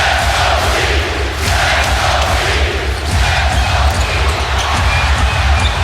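A packed arena crowd roars at an NBA playoff game as the Miami Heat pull away in the third quarter, a loud continuous cheer with a few thuds and no clear talk.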